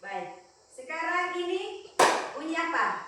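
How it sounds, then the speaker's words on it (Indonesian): A short burst of hands clapping in a classroom listening lesson, heard near and crisp, with a teacher's voice speaking before and after it. "Bagaimana kita tahu kalau ini tepuk tangan?"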